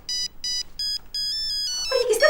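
A mobile phone ringtone plays at night indoors: three even bursts of bright electronic beeps, then a rising run of held tones, until a louder burst of other sound cuts in at the end.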